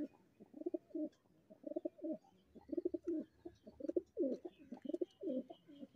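Pigeons cooing in soft, repeated throaty phrases, several bursts in a row with brief pauses between, close by and fairly quiet.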